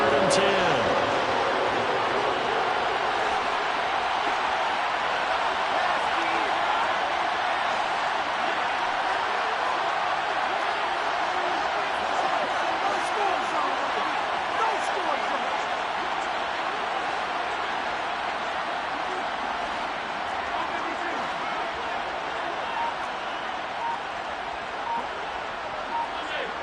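Steady roar of a football stadium crowd throughout, a continuous dense wash of cheering with no clear peaks.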